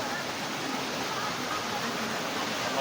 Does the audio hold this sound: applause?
no